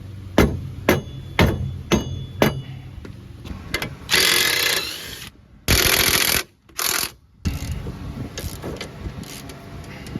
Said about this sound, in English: I'm going to start by hitting it with this dead blow